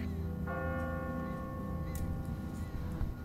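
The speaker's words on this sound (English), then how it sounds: "Why would they ring the bell?" A church bell rings in The Walking Dead video game, its sustained tones starting about half a second in and hanging over a steady low rumble, moderately loud and fairly near.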